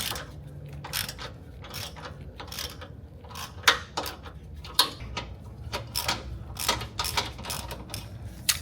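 A ratchet wrench loosens 17 mm bolts on a 2025 Toyota Tundra TRD, sounding as quiet, rapid clicking bursts repeated in short runs, with a few sharper metallic clacks between them.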